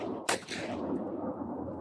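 A single sharp supersonic 300 Blackout rifle shot fired through a Noveske bolt carrier group and two-piece muzzle device, loud and close, with a long rumbling outdoor decay trailing behind it.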